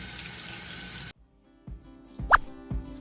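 Hot water runs from a tap at a sink: a steady rush of flow that cuts off abruptly, then a few clunks, a plop and a short squeaky splash follow in the quiet.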